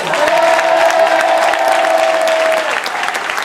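Large stadium crowd in Vigo applauding and cheering loudly for a Celta de Vigo legend at a player presentation, a dense steady roar with a sustained whistle-like tone that fades near the end.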